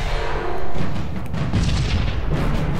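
Starship weapons in the space strategy game Sunrider fire and strike a target: a deep booming blast swells and rolls on as a sustained low rumble, loud and close, with no talk.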